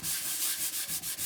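Sanding disc grinding steadily against a surface, a loud close rasping hiss pulsing in quick even strokes, with no voices.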